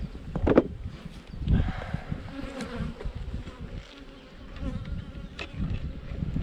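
Honeybees buzzing close around an open hive during an inspection, a dense, wavering drone with some wind noise and handling bumps.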